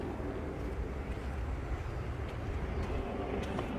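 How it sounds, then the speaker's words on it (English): A car's heater blower fan runs with the hood open, a steady broadband whooshing drone at moderate level that stays even throughout with no talk. "Oop, and I hear a blower going."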